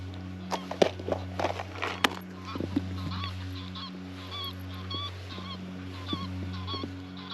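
Several geese honk repeatedly at a moderate distance, with a steady low hum running underneath and a few scattered thumps early on.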